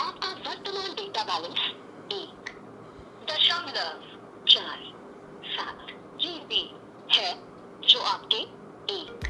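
Tinny, thin speech plays from a Noise ColorFit Ultra 3 smartwatch speaker, a phone-call voice with chirpy electronic tones and slight distortion, heard at moderate volume.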